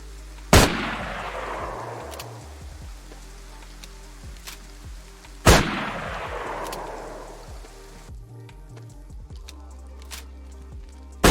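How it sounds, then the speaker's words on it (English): The BK shotgun in DayZ fires two loud, sharp blasts about five seconds apart, each with a long echoing tail, over a soft patter of rain. "They've added the BK shotgun and the sawn-off variant."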